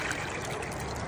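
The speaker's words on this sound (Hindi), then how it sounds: "और यहाँ से पानी भर लिया मस्त गर्म करने के लिए।" Water trickling and pouring steadily into a container, meant for heating while cooking tandoori chicken, a brief close continuous splashing with no talk.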